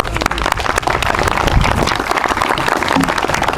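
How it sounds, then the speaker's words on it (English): A crowd at a school groundbreaking press conference in Norwalk claps loudly and steadily for the Senate Majority Leader, a dense, sustained round of applause with no talk over it. "a great round of applause for the Senate Majority Leader"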